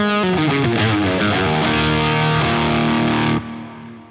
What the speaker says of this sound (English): it's very much just like a fuzz overdrive